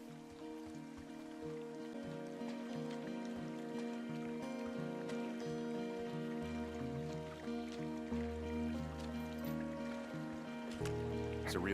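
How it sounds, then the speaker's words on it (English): A forest stream tumbling into a waterfall in the game Firewatch, a steady wash of rushing water, close and continuous, with a low musical drone underneath. "It's a really nice waterfall down here."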